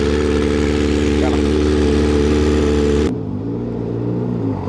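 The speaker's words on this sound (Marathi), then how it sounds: "डीबी क्लिअर आहे तरी एवढा आवाज आहे गाडीचा" A motorcycle with a dB killer fitted in its exhaust drones loudly and steadily at close range, then the tone drops abruptly to a quieter, lower rumble.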